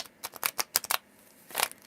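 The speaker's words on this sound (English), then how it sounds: "give my cards a little bit more of a shuffle here." A deck of cards being shuffled by hand up close, a run of short crisp slaps and riffles in quick irregular bursts, then a pause and one more flurry, with no talking.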